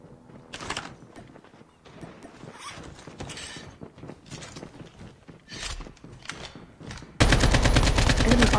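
Rapid machine gun fire in Call of Duty Mobile battle royale, from an RPD light machine gun or QXR, with repeated bursts of shots and mechanical clatter, ending in a loud sustained burst.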